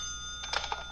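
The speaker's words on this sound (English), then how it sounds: "That's my phone." A telephone rings indoors in a short burst of bright electronic tones over a quiet steady hum, with no voices.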